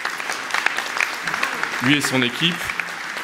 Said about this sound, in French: On peut l'applaudir parce que c'est un sacré boulot.